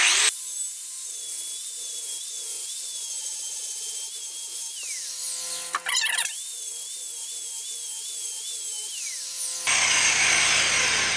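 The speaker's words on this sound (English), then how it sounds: "we're going to file it and make sure that we're filing the entire top before we do this" A hand file rasping across the top of a Dana 44 steering knuckle, a steady close scraping drone broken by a brief clatter midway and a harsher burst at the end.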